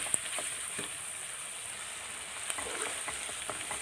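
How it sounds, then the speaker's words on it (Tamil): Garlic and onion sauté in hot oil for a brinjal kara kulambu, giving a soft, steady sizzle with occasional stirring clicks, quiet and without voices. "பூண்டு ஒரு 20 பல்லு பூண்டு பிடிச்சி நல்லா வதங்கணும்."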